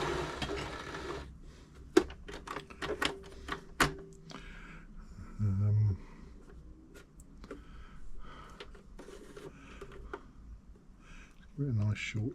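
An Elna 3007 sewing machine, freshly serviced, runs in brief bursts with clicking, ratcheting mechanism sounds, close and moderately loud, broken by pauses where someone handles the machine and speaks.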